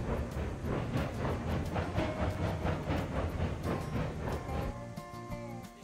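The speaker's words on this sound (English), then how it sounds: "Now we are going downhill now, but half the train's still going up here, I think." A heavy freight train from the Railroads Online game rumbles along in a steady rhythmic clatter with hissing, loud and continuous, partly climbing and partly descending a grade on full power.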